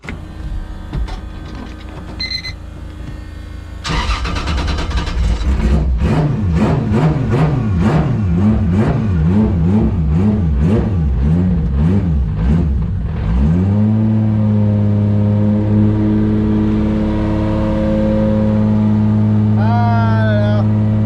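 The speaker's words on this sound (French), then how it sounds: "la petite Supra. Dis donc, ça ronronne bien pour un moteur cassé, ça hein." A Toyota Supra engine with a supposedly broken motor cranks and starts, revving in pulsing waves before settling into a steady, loud idle in a garage, close up, with someone talking briefly over it.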